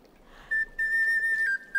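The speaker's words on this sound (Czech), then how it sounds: "zapískal na píšťalku tu naši písničku" A small pipe whistled near and clear, holding a thin, bright tone that shifts slightly in pitch over a few short held notes of a tune, with little else around it.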